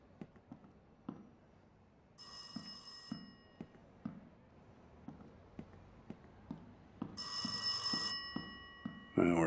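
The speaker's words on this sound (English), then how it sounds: "and the phone rings again, of course" A telephone in the horror game Rise of Insanity rings in two bursts of bright, trilling bells separated by a pause, over quiet ambience with faint footsteps or taps throughout.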